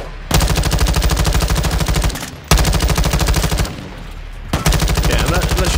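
Sustained automatic gunfire from Call of Duty Modern Warfare II gameplay, loud and continuous in three long bursts with brief gaps between them, dense rapid shots filling the scene.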